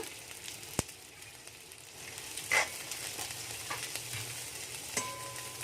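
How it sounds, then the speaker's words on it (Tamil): Cabbage, capsicum and carrot stir-fried in a pan give a steady low sizzle with a few sharp clinks of a utensil against the metal, heard alone without talk. "முட்டைக்கோஸ், கேப்சிகம், கேரட் இதெல்லாம் போட்டு ஒரு 2 நிமிஷம் நல்லா வதக்கி விடுங்க."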